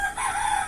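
A single rooster crows nearby, a brief, bright cock-a-doodle-doo heard on its own.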